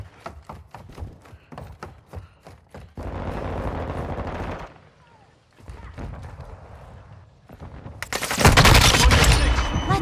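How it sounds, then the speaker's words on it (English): Rapid automatic rifle fire in Call of Duty: Modern Warfare 2 crackles in quick trains of shots, then rolls into sustained loud barrages and a final intense burst, with occasional voices in the mix. "I'm taking fire."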